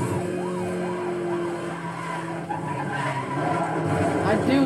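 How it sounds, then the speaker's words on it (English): A car in the racing game Need for Speed Most Wanted skids through a drift with tires squealing over engine roar, while a wavering siren rises and falls in the background; the skid continues loudly throughout. "Ooh, that perfect drift. Oh, no, I ruined it. No, don't crash against the wall,"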